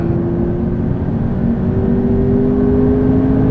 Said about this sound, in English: I cannot believe how fast this car is.